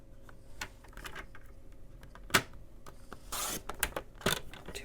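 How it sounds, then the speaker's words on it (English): A paper trimmer slicing patterned paper, a few short sharp scraping cuts and small clicks, quiet and close, with a longer swipe of the blade through the sheet midway. "The paper trimmer does a very good job."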